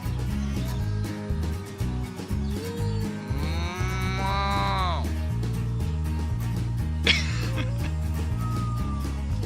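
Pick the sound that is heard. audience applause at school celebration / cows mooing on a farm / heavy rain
cows mooing on a farm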